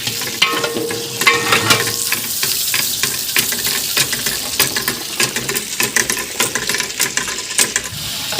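Chicken pieces go into browning onions in a large biryani pot, a busy crackling sizzle with repeated metallic clatters of stirring and scraping, loud and close.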